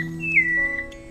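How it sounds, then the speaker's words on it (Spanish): Clear pure whistled notes of a thrush (zorzal) singing in Uruguay, a short melodic phrase of sliding tones over a soft low background hum. "El zorzal tiene un silbar que trae mucha paz."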